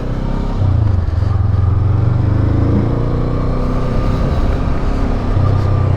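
A 2024 Honda SCL500 motorcycle engine runs loud and close on a parking lot test ride, with a steady low rumble that swells and eases slightly as the throttle shifts.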